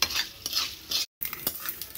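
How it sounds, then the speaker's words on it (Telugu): A short burst of tempering: mustard seeds, sesame seeds and asafoetida crackle and sizzle in hot oil while a spoon clinks and stirs the pan, broken by a brief gap of silence. "పోపు వేగిపోయింది. దీన్ని మిక్సీలో పడేస్తా."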